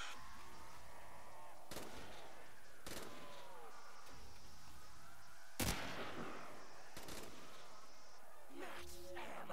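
Heavy gunshots from Black Ops 4, spaced out as a handful of separate loud booming blasts with ringing tails over steady game ambience, with talk mixed in.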